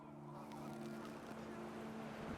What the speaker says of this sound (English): The wind picked up, and panicked geese appeared and quickly went.